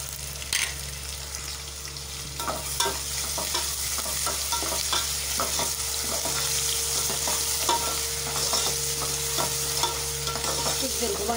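Ginger garlic paste sizzling in a hot pan while a spoon stirs it, a steady hiss broken by repeated scraping taps, close and alone without talk.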